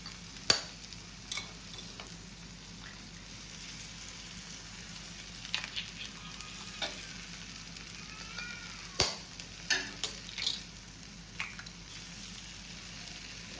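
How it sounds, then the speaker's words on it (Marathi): Egg bhurji is stirred continuously in a pan over low gas. A soft sizzle runs throughout, with repeated scraping strokes and occasional sharper clicks of the spatula against the pan, close up and without talk. "आता कंटिन्युअस स्टर करतात"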